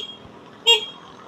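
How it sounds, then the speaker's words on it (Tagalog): Short, single beep from the horn of a SYM Husky 150 motorcycle, clear against a quiet background. "So busina check natin."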